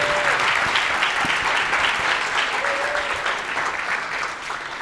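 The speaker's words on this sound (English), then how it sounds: "Let's give another round of applause for Dre." Sustained applause from a crowd at a web conference talk, steady and fairly loud throughout, tapering slightly toward the end.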